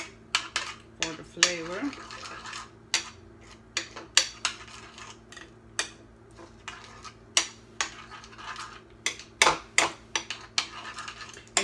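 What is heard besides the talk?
spoon mixing Wonder Cocoa into Instant Pot steel cut oats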